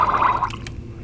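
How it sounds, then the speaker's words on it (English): Water forced by a bulb syringe through a fountain pen nib and feed to flush out leftover ink, a close, steady watery hiss that fades after about half a second. "Flushing a lot of water through that nib and feed, getting out all the residual ink."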